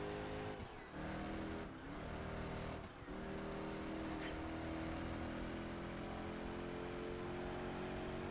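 Car engine in the racing game Project Gotham Racing 4, a steady high-revving drone held at speed with three brief dips where the throttle lifts for shifts, moderately loud and alone.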